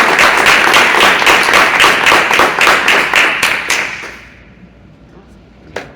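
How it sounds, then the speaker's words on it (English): Audience applause for a guest at a community business talk: dense, loud clapping from a crowd that fades away after about four seconds, leaving near silence and one last small knock. "Let's give her a round of applause."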